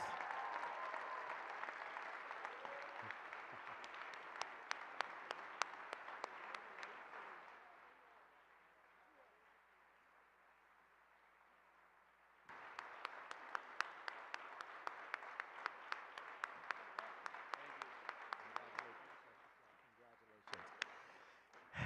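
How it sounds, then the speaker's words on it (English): An audience at the 38th annual Rev. Dr. Martin Luther King, Jr. breakfast breaks into sustained applause, pauses briefly, then claps again. Voices sound through parts of it. "Give a round of applause"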